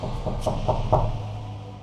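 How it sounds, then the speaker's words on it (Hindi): Someone knocks hard on a door at midnight: four firm, evenly spaced raps sounding close and loud, one every quarter second or so, before the room falls back to a dull low hum. "अचानक आधी रात को उसके दरवाजे पर किसी ने जोरों से नॉक किया"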